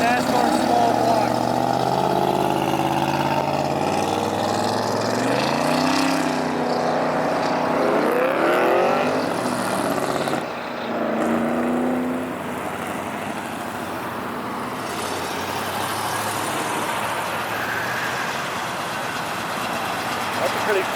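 A loud old NASCAR small-block V8, rated at over 800 horsepower, runs at a car show with a deep rumble and rising revs. People talk throughout as it continues steadily near the microphone.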